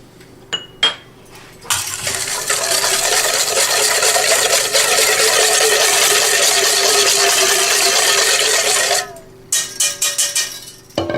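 Salad dressing whisked together in a bowl, a fast continuous metallic scraping and clinking for several seconds, framed by a few sharp taps before and after.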